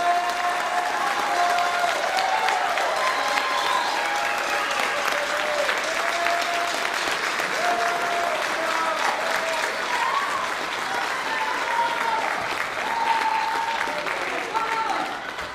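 Sustained applause from the audience at a school band spring concert, a dense, even wash of clapping that holds for several seconds, with scattered cheers and voices mixed in.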